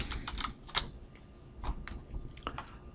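Computer keyboard typing during After Effects work, a handful of soft, irregular key clicks close by, quiet and uneven in spacing over a few seconds.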